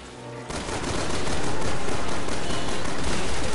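Gunfire in a Resident Evil video game, a loud continuous barrage of rapid shots that starts abruptly and holds steady to the end.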